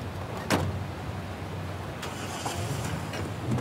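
A car in the video game Tell Me Why starts up with a short burst of noise, then its engine runs in a steady low hum that fills the whole stretch, with another faint bump near the end.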